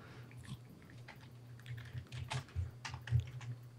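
Quiet, irregular clicking of typing on a computer keyboard runs over a low steady hum, with a few louder keystrokes and no voices.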